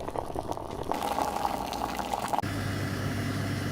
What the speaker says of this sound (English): sometimes it might be useful to be more descriptive, like vigorously boiling water